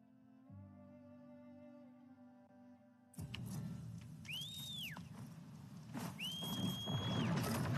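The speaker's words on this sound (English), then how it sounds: "You may have to whistle a couple times" A player character in a video game whistles twice, each a sustained rising-then-falling tone over game ambience, after a short stretch of quiet background music.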